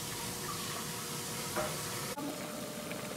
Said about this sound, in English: Now it's all good and boiling.